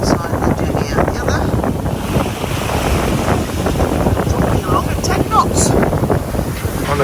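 A sailboat under sail with its motor running crosses open sea in 12-14 knots of wind, giving a constant rush of wind and water with engine drone beneath, loud and unbroken, with faint voices at moments.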